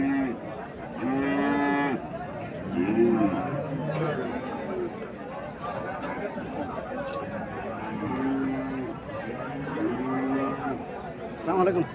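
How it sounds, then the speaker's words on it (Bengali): A Friesian dairy cow at a busy cattle market gives several loud, drawn-out moos, one after another, amid constant crowd chatter and people talking nearby. "এখানে আর একটা গাভী দেখা যাচ্ছে।"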